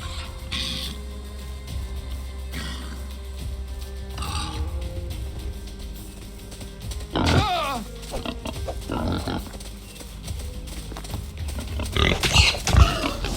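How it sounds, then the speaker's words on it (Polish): Wild boar in Medieval Dynasty, a medieval survival game, grunting and squealing in brief bursts over a constant low game hum and background music, with a louder, closer burst near the end. "drugi dzik nas zobaczył"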